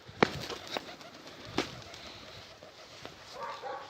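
Pigeons coo softly at a moderate distance, a few low throaty calls spread across the moment, with faint background rustles and no talking.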